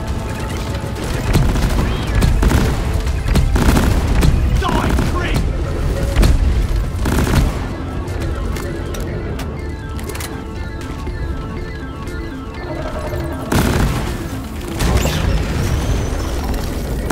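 In the video game Deep Rock Galactic, an Engineer's sticky grenade blows up amid heavy combat: booming blasts and rapid gunfire pile up loud and dense, with a character voice speaking over the din and a few fresh impacts later.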